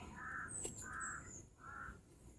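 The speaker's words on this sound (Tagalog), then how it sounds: "Yan yung mga uwak na naman." Three drawn-out caws from crows at a moderate distance, evenly spaced over steady background hiss and low rumble.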